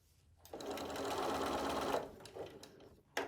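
A sewing machine runs steadily for about one and a half seconds while stitching double fold bias binding around a small curve, then slows and stops with a few short follow-up whirs, fairly quiet and close.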